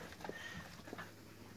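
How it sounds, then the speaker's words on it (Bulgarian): A small dog, unwell at the time, pants softly in short breathy bursts with faint whimpers, close by and quiet. "Хубаво кученце."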